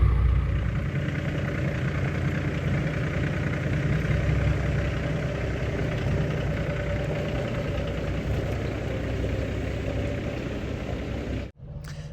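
A semi truck engine idling close by with a steady low diesel rumble and faint knocking, continuous and even throughout, with a brief dropout near the end.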